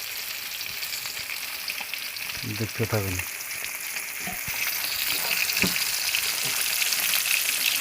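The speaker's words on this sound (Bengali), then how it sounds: "প্রথমে আমরা মাছটা ভেজে নিচ্ছি হলুদ" Tilapia fish seasoned with turmeric and salt sizzles steadily in hot oil, a continuous close crackle with brief stirring clatters and a short spoken phrase partway through.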